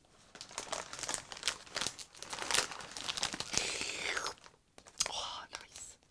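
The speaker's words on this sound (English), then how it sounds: "you can still hear the crisps" A crisps packet crinkles and rustles up close in irregular bursts for about six seconds, with soft crunching mixed in and quiet speech around it.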